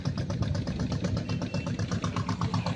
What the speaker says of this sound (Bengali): ওই আয় ঠিক আসছে নৌকাটা